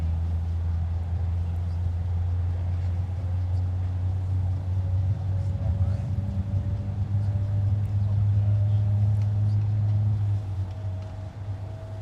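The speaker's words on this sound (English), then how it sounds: "So the number one engine on the side of the aircraft that we can see just started up." Jet airliner engine spooling up on the ramp at Minneapolis–Saint Paul airport during pushback, a steady low rumble with a rising whine, continuous and fairly distant, fading near the end.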